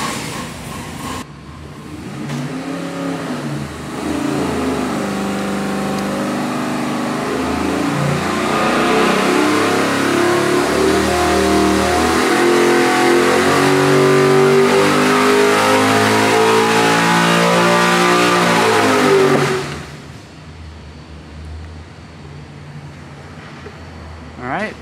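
A 441-cubic-inch LS3 V8 with 12.0:1 compression roars through a dyno pull, climbing steadily in pitch for about fifteen seconds before abruptly dropping off to a quieter idle, very loud and close.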